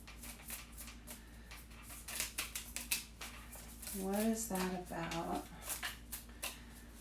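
Tarot cards are shuffled in quick, dry riffling bursts and soft slaps, close and fairly quiet, while someone speaks briefly over them.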